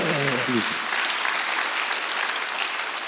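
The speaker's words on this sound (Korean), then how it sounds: "박수하세요." A church congregation bursts into sustained applause, loud and even, right after a brief spoken phrase during an Easter Sunday service.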